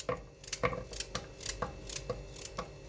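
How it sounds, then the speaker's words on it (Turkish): A knife chops a carrot into small rounds on a board, quick sharp taps in a steady rhythm, close and clear with no talking. "İster yan yan doğrayın ister benim böyle küçük küçük halka halka doğrayın."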